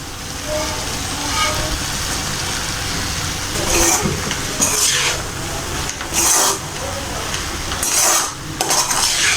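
A metal spoon clanks and scrapes against a pan as egg fried rice is stirred and mixed, with repeated sharp clinks over steady sizzling background noise.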